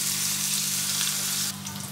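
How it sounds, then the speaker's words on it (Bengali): Bitter gourd pieces fry in hot oil seasoned with turmeric and salt, giving a steady, close, loud sizzle that eases slightly near the end, with no talking. "একটু হলুদ দিলাম আর একটু নুন দিলাম, দিয়ে করলাগুলো ভেজে নেব।"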